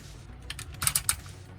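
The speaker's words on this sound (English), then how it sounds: "The arm can rotate 360 here. Nice clicking ratchets." The ratchet joints of a transforming robot action figure, a Civil Warrior CW-01 General Grant, click as the arm rotates, giving a short burst of small, close plastic clicks over faint background hiss.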